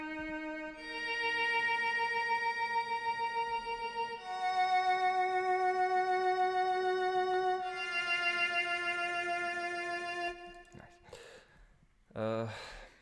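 A lower sampled viola part holds long sustained notes with compressed reverb, changing pitch every few seconds and adding depth to a Japanese lo-fi track, then fades as a brief voice and breath sound come in near the end.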